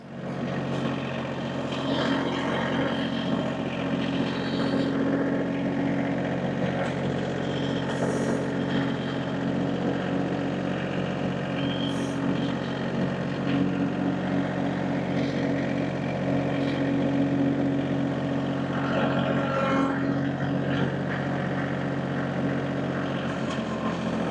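A Massey Ferguson tractor engine runs at a house deck demolition site, a steady, unbroken low drone that holds a constant level throughout.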